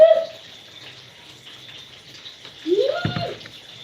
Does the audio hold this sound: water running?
yes